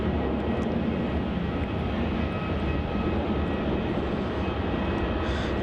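A Virgin Australia jet airliner departing runway 27 at Melbourne Airport, its engines a steady, loud, broadband roar that holds constant throughout with no voices.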